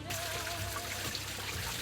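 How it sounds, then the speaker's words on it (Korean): Fountain water at the Alhambra in Granada, a soft steady trickle and babble heard faintly and continuously. "물소리가 들리기 시작하고"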